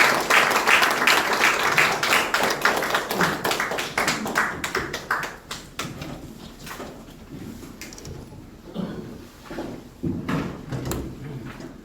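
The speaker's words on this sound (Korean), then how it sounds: "우리 나오실 때 우리 큰 박수로 좀 환영하시면 좋겠습니다" A congregation at a church gathering claps to welcome a pastor to the front: a thick burst of applause at first that thins out over several seconds into scattered, separate claps and faint room noise.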